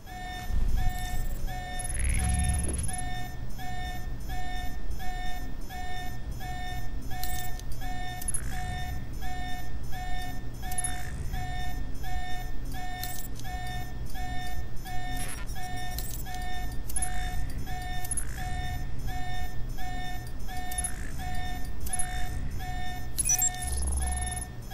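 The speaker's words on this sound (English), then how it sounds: "You need to shut off the alarm." A repeating electronic alarm beeps in steady regular pulses in the video game Alpha Protocol, sounding continuously over a low ambient hum for the whole stretch, with no speech.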